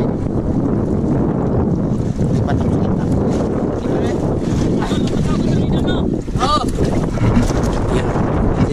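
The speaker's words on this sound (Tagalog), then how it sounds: "Hangin." Strong wind buffets a boat out at sea, a loud continuous roar of gusts across the microphone, with a voice talking over it.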